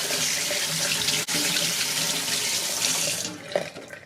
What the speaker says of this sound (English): I'm quickly just going to wash my hand,